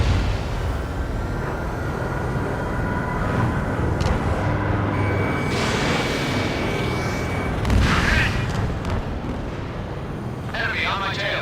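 Missile launch and explosions in the combat flight game Ace Combat 7, heard as a continuous loud roar of jet engine and blasts with a stronger burst near the middle, voices talking over it.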